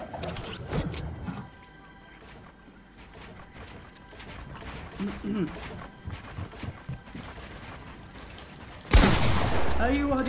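Fortnite gunfire, scattered bursts of shots and mechanical clatter under ongoing talk, ending in a sudden loud blast near the end.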